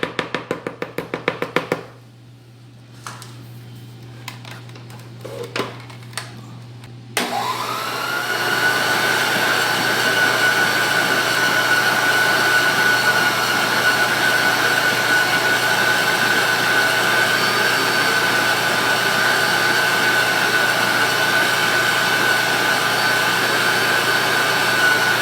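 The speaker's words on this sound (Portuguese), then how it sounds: "E aí eu darei uma rápida batida na batedeira antes de incorporarmos as claras." An electric mixer briefly beating chocolate mousse cake batter: a few soft taps and handling sounds first, then a steady loud whirring motor hum that runs on without talk.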